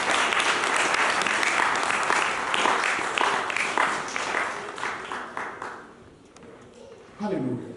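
A church congregation breaks into sustained applause, steady dense clapping from a crowd that gradually thins and fades toward the end, followed by a voice speaking.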